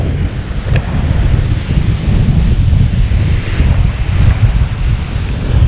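Surf rolls and washes continuously on a hidden beach in Aruba's National Park, a loud low rumble of breaking waves mixed with wind buffeting the microphone.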